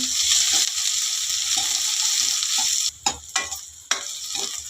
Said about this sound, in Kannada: ಸ್ವಲ್ಪ ಕರಿಬೇವು ಇಷ್ಟು ಹಾಕ್ಕೊಂಡು ಫ್ರೈ ಮಾಡ್ಕೊಳ್ಳೋಣ ದಪ್ಪ ಈರುಳ್ಳಿ ಒಂದು ಸಣ್ಣ ಕಟ್ ಮಾಡಿ ಅದನ್ನು ಅಷ್ಟೇ ಫ್ರೈ ಮಾಡ್ಕೊಳ್ಳೋಣ